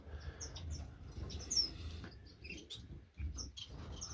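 Chestnut mannikins and other small finches chirp and tweet inside an aviary bird shed, soft high calls scattered over a low background hum, faint and somewhat distant.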